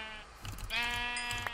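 A sheep bleats once in a blocky survival video game, a drawn-out wavering call that rises partway through and sounds close and fairly loud with no talking.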